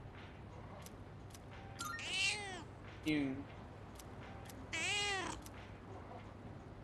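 Cartoonish cat meows from the Persona 3 Reload video game, sounding after the cat is fed: two drawn-out, wavering meows with a short chirp between them, moderately loud over a low game background hum, with a brief spoken word nearby.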